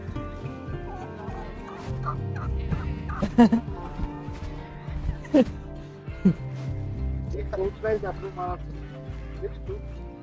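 A turkey at a desert camp in Wadi Disah, Saudi Arabia, gobbles in repeated loud bursts while being caught, with people talking nearby between and over the calls.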